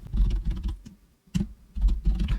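A computer keyboard is typed on up close as a folder name is entered, with quick clusters of soft keystrokes broken by a short pause.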